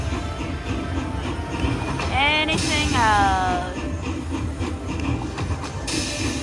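Train effects from the All Aboard Dynamite Dash slot machine, a rattling rail rumble with squealing wheel sweeps layered over casino noise, while a person speaks briefly.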